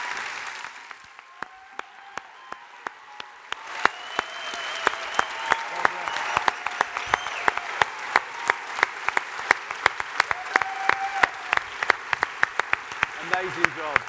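Audience applause at a One Young World youth summit, building from scattered claps into sustained clapping from a large crowd, with loud claps close by and a voice speaking over it.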